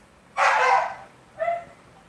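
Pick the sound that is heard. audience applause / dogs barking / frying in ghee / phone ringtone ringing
dogs barking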